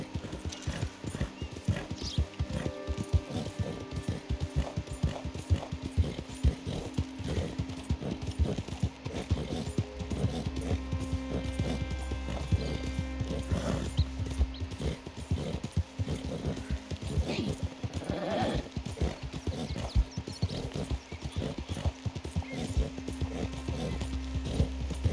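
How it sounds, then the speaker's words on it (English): Galloping horse in the video game Red Dead Redemption 2, rapid steady hoofbeats drumming continuously throughout with a brief whinny, close and prominent, no talking. "our horse is running out of steam."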